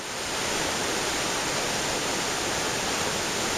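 Englishman River on Vancouver Island rushes steadily after a day of on-and-off rain, a continuous broadband wash of flowing water, close and even, with no voices.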